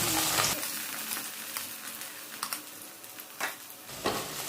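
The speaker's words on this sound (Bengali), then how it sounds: "অল্প আঁচ দিয়ে এটা ভেজে নিতে হবে ভালো করে" Beef fries in hot oil in a wok over low heat, giving a steady crackling sizzle with occasional scraping stirs and bursts of spitting.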